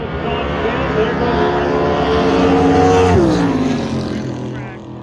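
Drag racing cars, one of them a Toyota Supra, roar as they launch from the line, with loud sustained engine notes climbing in pitch before one shifts and drops, under faint crowd and announcer chatter.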